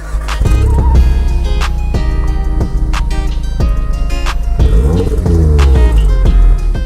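A loud, raspy car exhaust with the resonator deleted drones steadily nearby, with sharp pops and rising revs as the engine climbs through gears.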